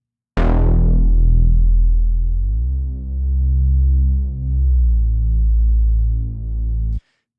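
A sustained, buzzing legato Reese bass made in the Serum synth glides smoothly between notes after a sharp plucked attack, loud and alone, with a slow throbbing pulse.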